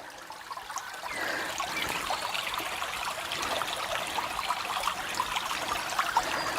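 Stream water trickling steadily over stones at a woodland river crossing in the Forest of Dean, a continuous close babble that picks up and holds after the first second, with no talk.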